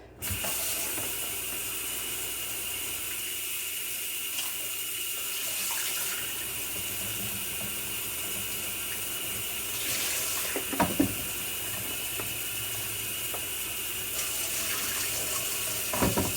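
Potatoes being rinsed under a running kitchen tap, a steady close stream of water splashing into the sink throughout, with a few soft clinks and handling sounds partway through.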